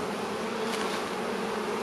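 Honey bees fly around a hive entrance in a dense, continuous buzzing drone, close and steady, with no voices.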